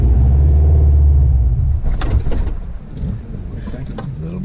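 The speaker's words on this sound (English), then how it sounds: "Clutch out at the same time, give it a little gas." A manual-transmission car engine hums low and steady, then rises briefly as gas is applied while the clutch is let out, with a person talking over the rumble.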